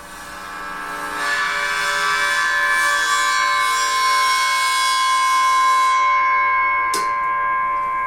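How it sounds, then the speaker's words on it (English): A sustained, swelling metallic drone from a gong bowed across its edge, with layered ringing overtones, building over a second and holding steady and loud. "You just draw the bow across the edge."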